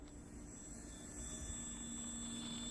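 An RC FlexJet model jet plane flying over a field, a steady continuous whine and rush of its engine heard from a distance, constant in level without talk.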